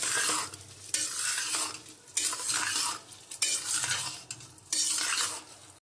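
Khichdi with turmeric stirred in a hot pan, loud repeated scraping sweeps of a spoon in bursts about a second long, with a sizzle underneath, close and without voices.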